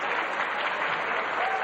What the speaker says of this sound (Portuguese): uma salva de palmas para a Rainha Santa Mafalda